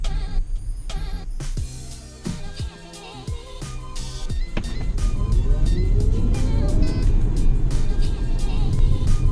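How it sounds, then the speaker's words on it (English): A Tesla Model S accelerates from a dead stop, an electric whine and rising road noise building steadily louder after a few seconds of scattered clunks and clicks. "There's no one currently behind me, and I'm going from a dead stop."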